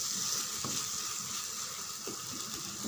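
Brinjal gravy masala, with leftover ground spice powder added, sautéing in hot oil in a pan: a steady, close, continuous sizzle and crackle with no talking.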